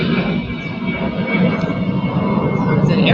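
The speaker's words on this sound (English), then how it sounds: "It's an airplane." An airplane flies overhead as a steady, loud broadband engine roar that fills the whole stretch, with a person speaking over it.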